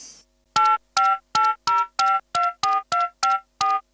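A rapid run of about ten electronic telephone keypad tones, each a short clear beep with even spacing, close and loud with no talking.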